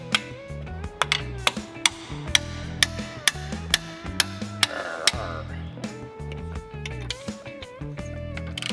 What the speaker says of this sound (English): Hammer, yeah, maybe scare it a little.